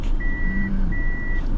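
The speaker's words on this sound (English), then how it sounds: "so I'm backing out now. Trying not to tear something up" A car backs out slowly while two long, steady reversing beeps sound over a loud engine and road rumble.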